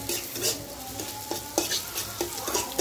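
Onions fry in a pan with a dense close sizzle, punctuated by a few short stirring scrapes over under three seconds, no voices.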